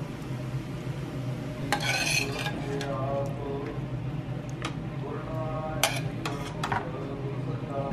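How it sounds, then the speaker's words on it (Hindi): Cooked mushrooms being lifted out of a home kitchen pan: a few short bursts of metal-on-pan scraping and clinking over a steady low background hum, with no talking. "मशरूम बन भी गई हैं और अभी इसको निकाल देते हैं"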